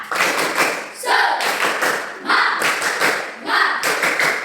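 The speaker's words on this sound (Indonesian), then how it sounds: "tepuk tangan untuk si Calon" A classroom of pupils claps hands in several short bursts, each swelling and fading, with a teacher's voice heard between them.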